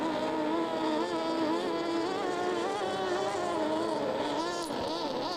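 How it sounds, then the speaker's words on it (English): A Mercury six-cylinder racing boat engine roars steadily at a boat race in Jacksonville, Illinois, a loud continuous droning whine with shifting pitch throughout. "I hear that Mercury 6-cylinder."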